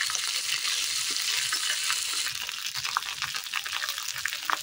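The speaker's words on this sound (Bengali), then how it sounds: "আদাটাকে ভালোভাবে টমেটোর সাথে আমি কষিয়ে নেব" Ginger paste fries with tomatoes in a pan for a winter mixed-vegetable curry, producing a steady, close hiss of sizzling with small scraping stir strokes throughout and no voices.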